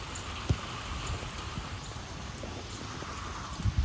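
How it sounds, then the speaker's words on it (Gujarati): Heavy monsoon rain falls with a steady soft patter, and a few louder drops tap nearby. "આવી રીતે જોરદાર વરસાદ છે"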